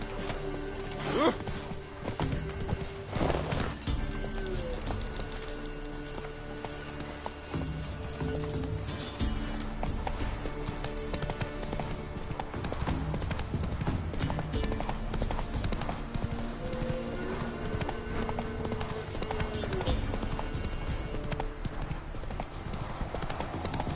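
Roach, a horse in The Witcher 3 video game, gallops with steady, loud clip-clop hoofbeats throughout, over game music and ambience, with a brief neigh possible.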